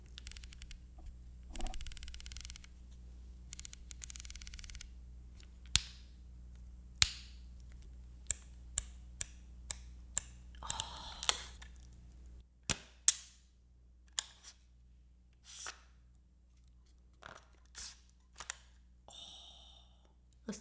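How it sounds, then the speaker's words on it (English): Leica Q2 camera controls click crisply and close, a long irregular series of sharp dry snaps and dial clicks, some in quick bursts, others spaced apart, against a quiet background. "how satisfying the clicks are on this thing"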